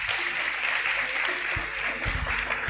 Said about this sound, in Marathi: टाळ्यांचा कडकडाट जोरात व्हायला पाहिजे